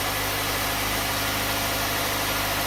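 A 2008 Jeep engine running steadily after a seized alternator was repaired, a continuous close idle hum with a low rumble and no speech.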